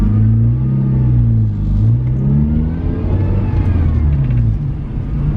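A Honda Civic EK coupe drives and accelerates, its engine rising and falling in pitch through gear changes, heard close and loud from inside the car with no talking.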